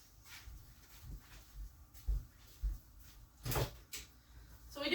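A kitchen refrigerator door is pulled open and pushed shut, giving faint soft thumps and a brief rattle and seal sound in a quiet room, with no talking.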